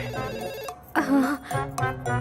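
A telephone rings indoors in a domestic setting, sounding in short repeated bursts with brief gaps between rings and no talk over it.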